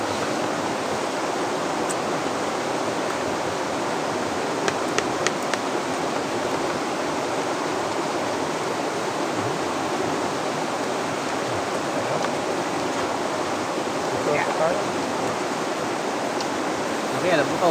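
A Philippine riverside with flowing river water, a steady broadband rush that holds constant and close throughout, with a few faint clicks and distant voices in the background.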